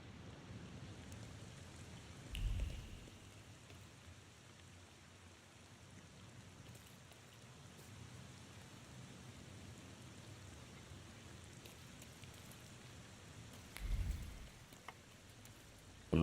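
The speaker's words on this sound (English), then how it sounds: "Some random guy out in the rain." Steady rain falls through a game scene in The Thaumaturge, a constant soft hiss of downpour with two brief low rumbles of thunder, faint and distant, and no voices.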